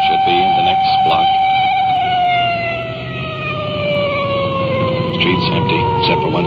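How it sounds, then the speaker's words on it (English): Police car siren wailing loudly nearby, a high tone sliding slowly downward over a rumbling vehicle engine, with a second siren tone and a voice speaking underneath. "that siren hits such a high peak it's almost impossible to talk"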